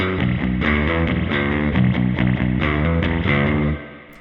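A 7-string guitar played through the Amplitube 5 bass amp plugin, with distorted, effects-laden riffing of rhythmic, repeated notes on the low seventh string, loud and sustained before cutting off near the end.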